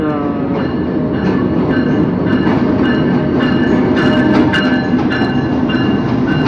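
A passenger train at a station in Pakistan, on a route from Multan toward Karachi, rumbles steadily with loud, continuous wheel and carriage noise and a faint metallic ring, filling the whole stretch with no pauses.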